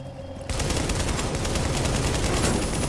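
Video game gunfire in The Division: a sudden burst of rapid automatic shots that starts after a short quiet moment and keeps up as a dense, loud, continuous fusillade.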